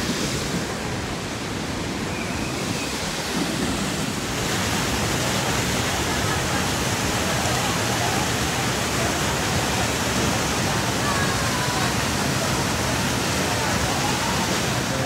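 A hidden waterfall in Tamhini Ghat during the monsoon roars as a steady, loud, broadband rush of falling water, continuous throughout with no voices.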